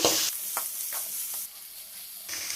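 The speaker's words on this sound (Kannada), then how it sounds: "ಆನಿಯನ್ ಲೈಟ್ ಬ್ರೌನ್ ಕಲರ್ ಬರೋವರೆಗೂ ಚೆನ್ನಾಗಿ ಫ್ರೈ ಮಾಡ್ಕೋಬೇಕು ಈ ರೀತಿ." Chopped onions, four large ones, frying and sizzling in a pan while being stirred, with a loud sizzle that drops back after a moment and scattered scraping strokes throughout, no voices.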